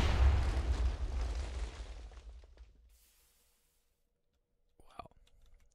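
Concrete cracker explosive detonating in the HBM Tech Mod, a loud, close rumbling blast that decays over about three seconds into near silence, followed by a faint click.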